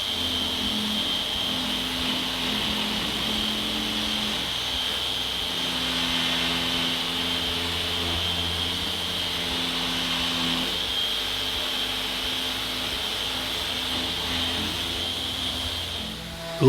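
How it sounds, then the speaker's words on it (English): A power planer or sander runs steadily while flattening uneven wood on a workbench, a continuous whining drone with a bright high hiss that holds for the whole stretch at close range, with no talking. "I use my planer or sander to flatten uneven parts when necessary."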